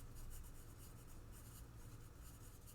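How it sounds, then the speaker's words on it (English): Pen or pencil scratches steadily across paper as handwritten notes are made, a faint, close, continuous scribbling with slight rhythmic strokes. "So I'm going to write leatherback"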